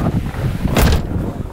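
Strong wind buffets the microphone outdoors in cold weather, a loud, continuous low roar with a brief harsher gust in the middle.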